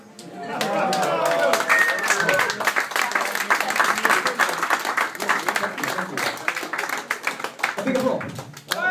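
Audience applause at a magic show at the Magic Castle, lively clapping with cheers and whoops mixed in, people talking and calling out over the hands, rising quickly and tapering near the end.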